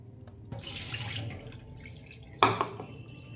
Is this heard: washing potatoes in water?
yes